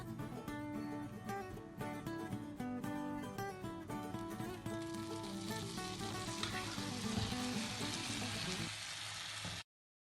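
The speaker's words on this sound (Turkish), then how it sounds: "Şimdi diğer yüzeyini kızartıyoruz." Steady frying sizzle of künefe pastry in a hot pan, continuous crackling with a dense texture, heard close up alongside background music, then cutting off abruptly near the end.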